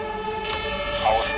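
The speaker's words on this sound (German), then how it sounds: "Ich finde das Martinshorn so geil von ihm" A German fire engine's two-tone Martinshorn siren wails from an Emergency 4 firefighting video game, a steady tonal blare running throughout.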